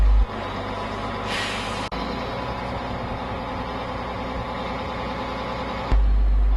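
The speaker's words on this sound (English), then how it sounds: "reverse the tug until its own rear bogie is over the track" A road-rail crane tug backs up with a trailer over the track, its diesel engine droning steadily with a brief hiss of air near the start and a heavy thump as the engine note shifts.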